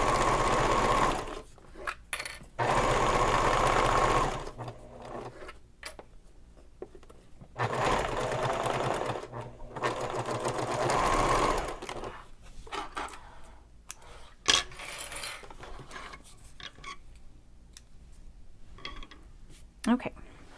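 A sewing machine stitching a pocket seam on a messenger bag runs in several loud, close bursts of rapid whirring, with quieter gaps where a person talks in between.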